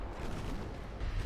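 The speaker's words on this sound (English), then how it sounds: "The secondary fire that's coming in is just gorgeous." Rumbling barrage of battlecruiser secondary guns in Ultimate Admiral Dreadnoughts, a dense, continuous low booming roll of distant naval gunfire with no distinct single shots.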